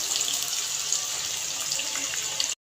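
A large chopped onion fries in hot oil, giving a steady, loud, dense sizzle that runs without pause before cutting off abruptly at the end.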